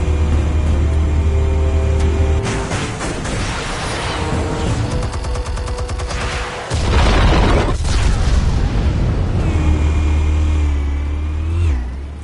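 Explosives detonating in Batman: The Telltale Series: heavy booming blasts over a loud, dense roar of game effects, with a rumbling low end and a surge of noise midway.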